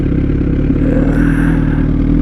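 A vehicle engine braking, heard as a loud, steady low rumble with droning harmonics that holds close to the microphone from start to finish.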